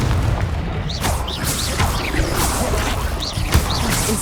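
Confringo blasting spell in Hogwarts Legacy, a loud, dense rumbling explosion with crackling debris and a sharp thud near the end, sustained over the whole stretch.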